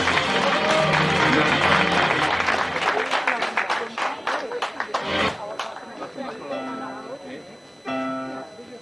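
A crowd claps and cheers loudly at a live show event, a dense wash of applause that thins into scattered claps and chatter before music begins.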